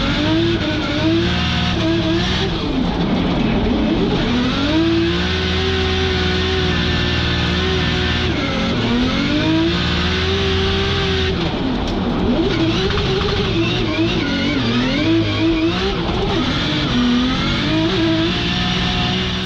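A Toyota 2JZ inline-six drift engine revs hard and continuously, the loud pitch climbing and falling in repeated sweeps over an unbroken roar with no voices.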